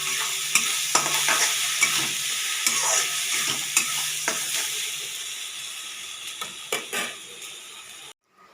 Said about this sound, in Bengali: ঘি দিয়ে একটু ভেজে নেব